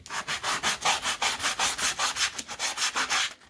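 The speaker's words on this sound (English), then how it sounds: "Nice little sanding block here, just to take off some of the rough edges." Quick back-and-forth rubbing of a sanding block on wood, about a dozen rhythmic, scratchy strokes close up, with no talking.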